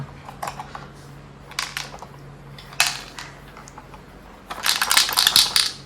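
A loose part rattles inside a mini sewing machine, making scattered clicks and clatters that build to a denser, louder shaking rattle near the end, close up with no talking.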